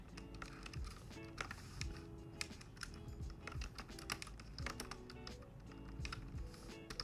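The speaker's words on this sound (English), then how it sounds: "It sounds like you're typing the message now." Rapid, steady clatter of keys being typed on a computer keyboard, close and clear, with irregular bursts of keystrokes and no talking over it.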